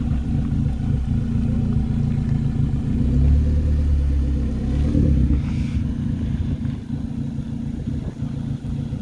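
At a supercar meet, a car pulls away with a loud, low engine rumble that swells and then fades over several seconds, with faint crowd noise from the gathering behind it.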